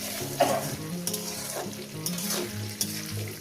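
Onions fry in a pan for mutton curry, a loud, close sizzle broken by repeated scraping stirs of a spoon, with no one talking.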